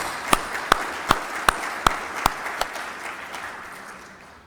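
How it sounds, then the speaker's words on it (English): Applause from the audience at a World Archery Congress session in Belek, Antalya: a steady wash of clapping with several sharp, evenly spaced loud claps standing out, gradually fading toward the end. "Please applause for them."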